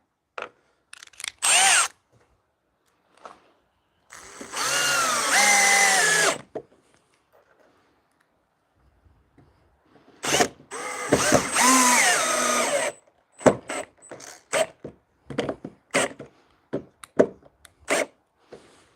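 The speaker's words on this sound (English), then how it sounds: "so I can basically adjust this using the drill, or just using the screw even" A power drill drives screws to adjust a folding bench, in several loud whirring bursts separated by silences, followed by a run of short clicks and knocks close by.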